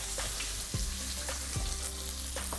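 Onion sautéing in a hot pan, a continuous close sizzle and crackle broken by a few sharp clinks and scrapes of a utensil against the pan.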